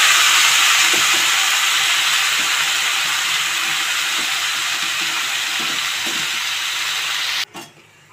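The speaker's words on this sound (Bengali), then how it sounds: "কড়াইটা গরম হয়ে গেছে, এবার পুরো কড়াইতে মাছটা দিয়ে" Marinated fish hitting a hot wok gives a loud, steady sizzle and hiss that fades slightly over several seconds, then cuts off abruptly near the end with a brief clatter.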